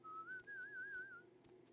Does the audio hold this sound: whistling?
yes